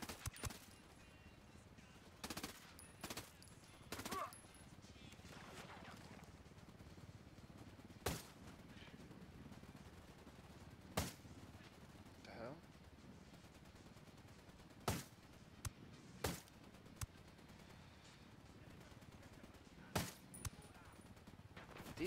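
Rapid bursts of automatic gunfire in the video game Ghost Recon Wildlands, sharp cracks scattered across the stretch, some clustered in quick volleys, over a low ambient background with occasional voices.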